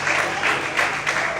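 A church congregation applauds during a morning service, a dense, steady round of clapping with slight surges, fairly close and loud.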